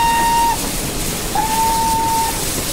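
Steam whistle of an SE&CR H Class locomotive in a train simulator game: a short clear toot, a pause, then a longer sustained blast over a steady hiss and rumble.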